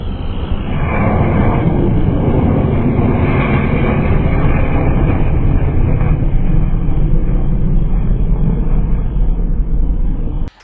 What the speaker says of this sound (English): Take a look at this MiG-17 as it performs a low pass over a lake